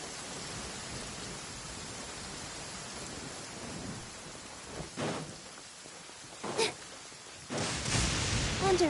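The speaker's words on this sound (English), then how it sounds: "Thunder is kinda scary." Thunderstorm in the Genshin Impact video game: a continuous hiss of heavy rain with several sudden thunder bursts and cracks rising out of the downpour near the end.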